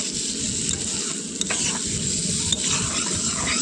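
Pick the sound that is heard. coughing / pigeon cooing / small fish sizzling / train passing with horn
small fish sizzling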